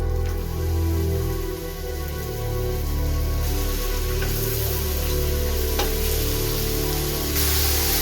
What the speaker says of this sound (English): The fresh mushrooms go in and cook until softened.